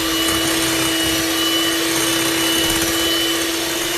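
An electric whisk beats brownie batter in a steady, loud, continuous whir with a constant motor tone and a faint rattle in the bowl, and no voices.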